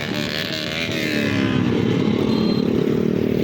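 A dense mass of motorcycle engines drones and revs continuously in heavy Friday traffic on 300 Feet Road, loud and close, with a steady engine rumble and no break.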